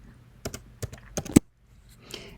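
Several quick keystrokes on a computer keyboard while entering a spreadsheet formula, a short burst of clustered clicks followed by a louder single key tap, then a brief pause and faint rustle.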